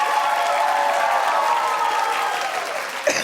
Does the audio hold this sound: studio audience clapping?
yes